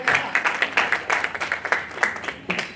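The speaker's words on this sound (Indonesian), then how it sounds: "Boleh tepuk tangan." Congregation applauding during a church service after the worship music team is thanked: a scattered patter of many hands clapping at close range, uneven and lively, fading a little toward the end.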